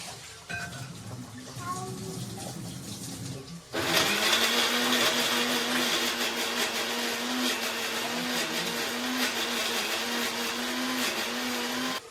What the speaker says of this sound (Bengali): আদা রসুন বাটা হচ্ছে তো, তাই না একটু জল দিয়ে দিয়ে বাটতে হবে।